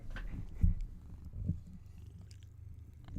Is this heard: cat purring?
yes